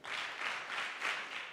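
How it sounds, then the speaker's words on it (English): A group of children at a summit session claps in loose rhythmic bursts, several swelling rounds of hand claps from a crowd, heard moderately close with no speech. "Clap 4 times."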